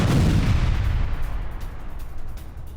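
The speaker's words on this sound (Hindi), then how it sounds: "होवित्जर तोप से सैन्य ठिकानों पर हमला किया।" A howitzer fires during a Russian artillery strike in the Kharkiv region, a single heavy, close boom opening loud and then rumbling away into a long fading tail.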